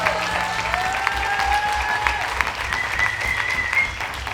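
Audience applause rings out steadily after a call to clap at a political talk event, a dense wash of hand clapping that holds for the whole stretch with a faint voice ringing beneath it.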